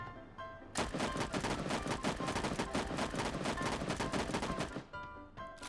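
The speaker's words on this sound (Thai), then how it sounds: "ผมจะมายิงให้ดูนะครับว่ามันนิ่งยังไง" Rapid automatic M4 rifle fire in a shooting video game, a dense sustained burst lasting about four seconds, loud and close, with quieter background game sounds before and after.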